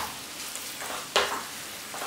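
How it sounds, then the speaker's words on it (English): Beef searing in hot oil in a pan gives a steady sizzle that flares loudly about halfway through as a piece is turned, then settles back to a close, even frying hiss with no speech. "And just start to cook it, nice and gently. Turn it over, try and sear it up on all sides."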